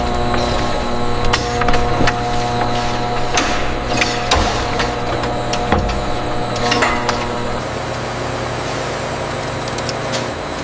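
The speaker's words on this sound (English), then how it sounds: "The massive stainless steel mixers begin their work, blending flour, eggs, sugar, and milk" Massive stainless steel industrial mixers blending cake batter of flour, eggs, sugar and milk in a large factory, a steady loud mechanical drone with repeated clanks and hisses throughout.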